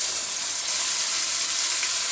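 Onion and garlic paste with Kashmiri chilli powder frying in a pan, a steady bright sizzle close by with no talk.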